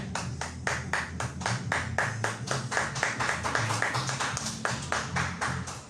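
A church congregation claps in steady, even rhythm as an offering of applause to the Lord, many hands striking together in a regular beat that carries on throughout.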